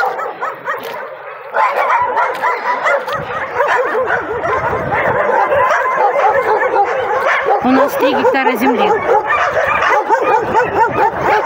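Several dogs bark, yip and whimper continuously, fairly close, with a person speaking briefly over them.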